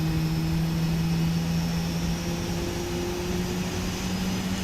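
A PMDG 777-300ER jet engine drones steadily in a flight simulator, a constant loud hum with sustained tones, no talking.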